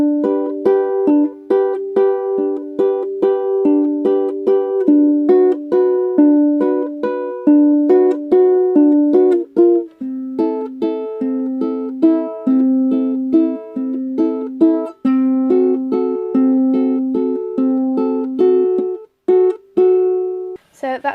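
A ukulele strums a repeating chord pattern for a song, with bright, evenly spaced strokes in a steady rhythm, played solo and close for about twenty seconds.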